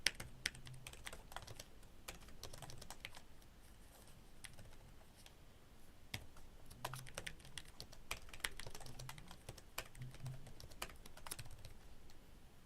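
Fingers tap quietly on a computer keyboard in irregular bursts of light clicks, with scattered sharper keystrokes such as an Enter press, all soft and close in a hushed room.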